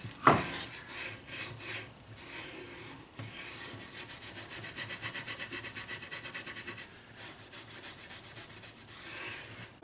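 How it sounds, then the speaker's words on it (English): Steel wool rubbed by hand over the finish of a wooden cabriole-leg end table, a steady close scraping hiss in repeated strokes with no talk. "I sanded all these down just with steel wool. Took the shine off it."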